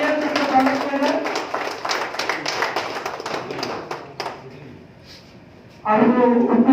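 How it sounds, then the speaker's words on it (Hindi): An audience claps steadily at a community service award evening, the applause fading out after about four seconds before a voice begins speaking. "जो तालियां से स्वागत करें।"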